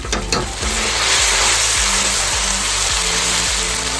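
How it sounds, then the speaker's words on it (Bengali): Ginger paste added to hot oil with fried onions in a pan for a Bengali potoler dorma: a brief clatter, then a loud continuous sizzle with rhythmic spatula scrapes, near and alone. "এবার দিয়ে দিচ্ছি আদা বাটা।"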